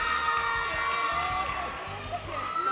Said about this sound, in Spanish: Fuerte el aplauso, chicos